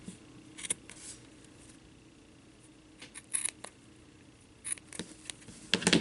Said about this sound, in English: now I'm just going to cut a little bit off